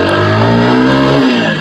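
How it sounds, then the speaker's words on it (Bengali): A TVS Apache 4V motorcycle engine revs in first gear, a loud, steady close-up engine drone with rising pitch that dips slightly near the end. "বাইকটার যদি আমি প্রথম গিয়ারে মানে উঠাই ফার্স্ট গিয়ারে 40 কত আরপিএম এ ওঠে"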